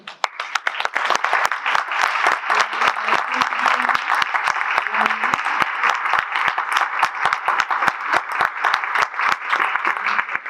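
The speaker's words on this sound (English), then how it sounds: "I would like the committee members of the MLK committee please to stand for a round of applause for the work that you do" Sustained applause at a Dr. Martin Luther King Jr. awards dinner as MLK committee members stand, with dense clapping and sharp individual claps carrying on for about ten seconds and a few voices underneath.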